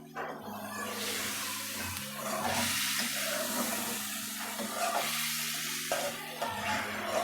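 Water poured into hot masala in a pan for a chicken neck curry, giving a loud, steady sizzle and hiss that continues throughout with low bubbling underneath, and no voices.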